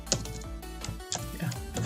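Quick, close keyboard clicks tap out in irregular bursts over a low background hum while coding HTML, no voices.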